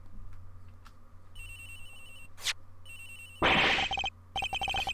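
A mobile phone rings in the Ace Attorney Investigations video game, with repeated electronic trilling bursts separated by short gaps, clear and alone with no talk.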